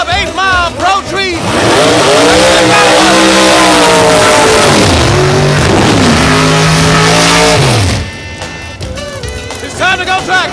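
Drag racing cars roar at full volume at the start of a heads-up 8 Mile Pro Tree race, engines revving and rising in pitch for several seconds before dropping off, with an announcer's voice mixed in.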